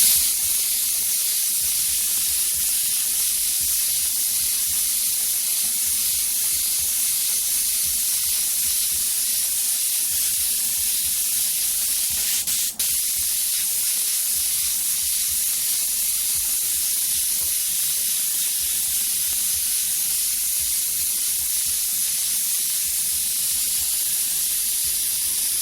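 A white paint mist sprays steadily from an airbrush, a continuous close, even hiss with no pauses across the whole stretch and no talk over it.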